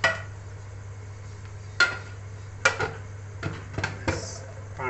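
Metal lid covering a pot of chicken biryani in a kitchen, several clanks and clatters of cookware over a steady low hum.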